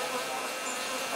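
A swarm of around 150,000 bees from a relocated hive makes a dense, steady buzzing drone that stays loud and unbroken throughout the short moment.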